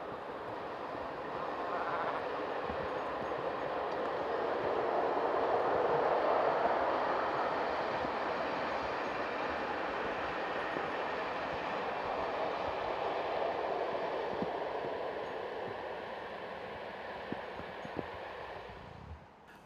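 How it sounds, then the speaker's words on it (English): Swiss train running shortly after leaving Grosshoechstetten, a steady distant rumble and rolling hum that swells slightly and fades across the whole span, with faint clicks near the end. "Here the train is seen shortly after leaving Gross Hoestetten."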